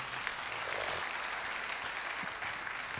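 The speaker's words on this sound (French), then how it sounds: "Acclamons le Seigneur pour elle." A church congregation applauds during a deliverance and healing prayer service, a steady wash of clapping sustained for a few seconds, fairly distant.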